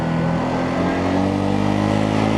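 A Hansom Motors Bennett 125 motorcycle engine runs in first gear in slow traffic, giving a loud, steady, even drone heard close with no talking.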